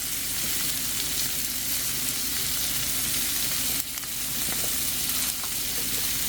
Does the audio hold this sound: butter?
yes